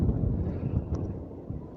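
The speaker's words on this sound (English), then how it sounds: "Very windy day" Strong gusts on a very windy day at a round tower overlooking Gosport buffet the microphone, giving a loud, continuous low rumble and roar throughout.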